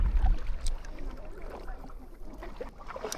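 A kayak is paddled across open bay water, with close splashes and drips from the paddle strokes over a soft watery wash in a brief stretch.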